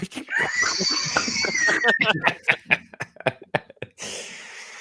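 A human voice mimics the call of an imagined creature, the lesser dodo, with a wheezy, horse-like whinny followed by a run of sharp breathy gasps and squeaks, close and loud, ending in a brief hiss.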